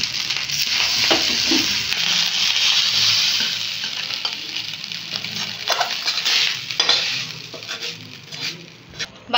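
Fried rice is being fried and stirred in a pan, with a loud continuous sizzle broken by scraping and clinks of the utensil against the metal.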